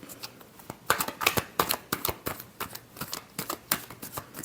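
Tarot cards being shuffled by hand, a quick series of crisp riffling flicks and slaps in an irregular rhythm, close and fairly quiet.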